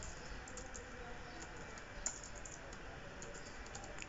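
Keys tapped steadily on a computer keyboard while entering a password field in a Python Tkinter mail program, a soft continuous patter of clicks close by with one sharper key strike midway.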